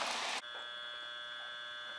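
A shop light gives off a steady electrical hum with a bright, whiny buzz, constant and fairly quiet, just after a burst of broadband noise at the start; no one talks.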